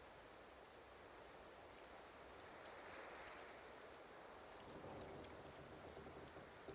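Steady rain falls in a video game setting, a continuous broadband hiss that holds evenly throughout with a faint low rumble underneath and no voices.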